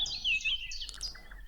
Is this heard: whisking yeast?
no